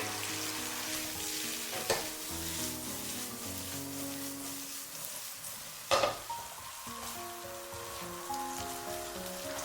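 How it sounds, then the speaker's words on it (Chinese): Cauliflower hissing as it is stir-fried in a wok, a steady sizzle broken by two sharper scraping tosses of the spatula; close-up with no voices. "我们再下入花菜，继续翻炒均匀，把花菜炒至上色，炒至入味"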